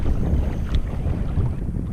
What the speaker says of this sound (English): Luckily the wind picked up a little bit, which is going to help our cause.